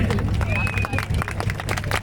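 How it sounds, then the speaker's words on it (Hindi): A large crowd at the NCC rally in New Delhi breaks into loud, sustained applause, with dense clapping mixed with crowd noise that holds steady throughout. "जोरदार तालियों से अभिनंदन करें"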